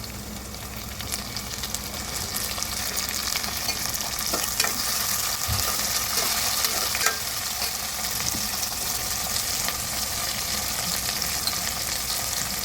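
Tomatoes and onions fry in a pan for an idly kurma, a steady close sizzle with occasional stirring scrapes throughout, no voices.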